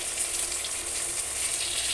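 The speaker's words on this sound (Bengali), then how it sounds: "এই মাছগুলোকেও আগের মতোই উল্টে পাল্টে গোল্ডেন ব্রাউন করে ভেজে নিতে হবে" Pieces of catla fish fry in hot oil in a kadai, a brief steady sizzling hiss heard up close without any talking.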